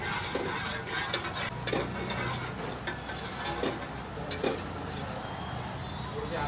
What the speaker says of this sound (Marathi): ह्याला मस्त हलवून घेऊया